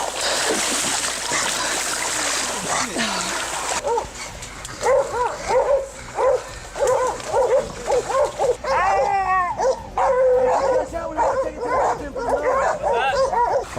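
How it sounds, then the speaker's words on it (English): Hunting dogs bark and yip in quick bursts after detecting a wild pig, several dogs close by with whimpers mixed in, following a stretch of rushing noise at the start. "When the dogs detect a wild pig, they will typically signal their discovery by barking loudly and attempting to hold the pig in place."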